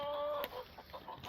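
Chickens clucking inside a backyard coop at an off-grid country homestead, a few short calls close by over a soft rustling background, with one brief louder squawk partway through.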